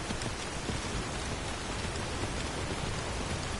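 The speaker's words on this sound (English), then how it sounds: "Yeah, it's torrential rain. It'd be nice if this lets up." Torrential rain pours steadily in Skyrim, a dense, even hiss of heavy downpour filling the scene without a break, loud and continuous with no voices over it.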